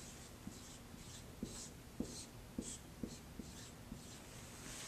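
Pen or marker writing out a math problem on a surface, a faint series of about eight soft scratchy strokes and taps in an uneven rhythm over a quiet background.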